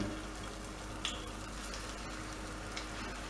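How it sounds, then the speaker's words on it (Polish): Batter for zucchini fritters fries in hot oil in a pan, making a quiet, steady sizzle with a few faint pops and no talk. "Olej mamy rozgrzany, także śmiało możemy wykładać naszą masę na placki, na patelnię i smażymy"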